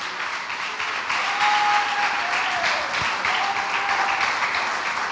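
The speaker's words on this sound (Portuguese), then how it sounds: "E as palmas adoram a Deus." Church congregation applauding at the close of a worship service, a steady wash of many hands clapping that runs the whole time without letting up, with a faint tone drifting underneath.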